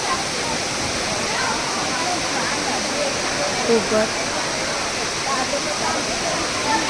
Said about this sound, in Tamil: அது ஒரு ஃபால்ஸ் மரம் செட் பண்ணி மேலேருந்து தண்ணி விழுவ வச்சுருக்கிறாங்க